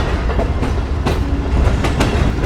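Pak Business Express passenger train rolling slowly past Samasatta station: a continuous rumble with rhythmic wheel clicks and clacks over rail joints and a faint squeal, heard from on board, with no talk.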